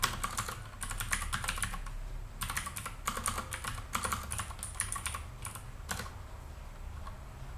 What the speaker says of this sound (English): I need to type this out.